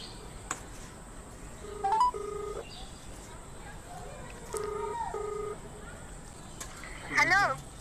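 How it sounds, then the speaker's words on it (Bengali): A telephone is dialed, producing short electronic keypad tones in a few quick bursts, followed by a rising warbling tone near the end against a quiet background. "তো চলো ফোনটা করা যাক।"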